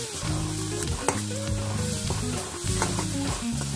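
Loud, close sizzling of spices frying in a hot pan, with clattering stirs and scrapes throughout.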